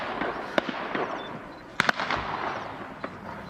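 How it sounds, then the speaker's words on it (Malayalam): Sharp gunshots ring out from a shooting range near a leopard safari forest in Jhalana, a few scattered cracks with two close together, over steady outdoor background noise. "വെടിവെച്ചുകൾക്ക് നടുവിലൂടെ റാണ ഇങ്ങനെ നടന്നു പോവുകയാണ"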